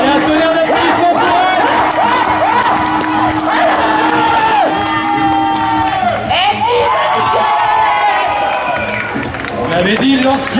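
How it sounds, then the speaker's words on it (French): A big outdoor crowd at a knights-versus-barbarians medieval event in Angers breaks into sustained, loud applause and cheering, full of whoops and yells that keep going throughout, with a voice calling out over the noise. "Allez, un tonnerre d'applaudissements pour elle."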